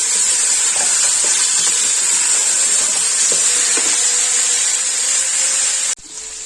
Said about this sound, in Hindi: ये मैं लहसुन अदरक डाल कर इसे अच्छी तरह पहले फ्राई करूंगी